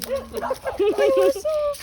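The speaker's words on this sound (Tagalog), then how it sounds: "Daming aso." Dogs bark and yip in short, high, irregular bursts close by in an outdoor spot near a river, mixed with excited talking.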